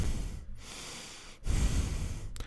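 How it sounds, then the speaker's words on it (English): Heavy breathing from someone standing close behind, two long noisy breaths with a short pause between them, loud and near, with no talk. "because she could hear the person breathing heavily"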